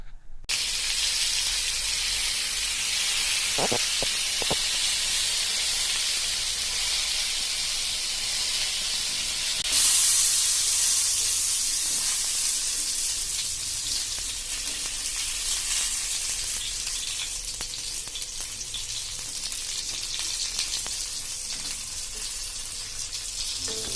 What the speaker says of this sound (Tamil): அந்த தோசைக்கல்லையே நல்லா வெந்ததுக்கப்புறம் அதை வந்து அப்படியே எல்லாத்தையும் திருப்பி போட்டுட்டு திரும்ப வேக விடணும்